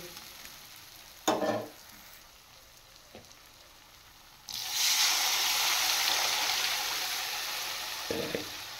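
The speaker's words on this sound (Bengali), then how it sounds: "এবার আমি পরিমাণ মতো জল দিয়ে দেব" Water poured into hot, sizzling masala for a Bengali boal fish curry: quiet frying and a couple of utensil knocks, then a sudden loud hissing surge that keeps boiling and spitting steadily.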